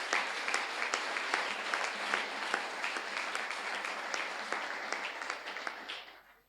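A church congregation applauding, sustained dense clapping that holds steady and then fades out at the end, fairly loud and close, with no talking.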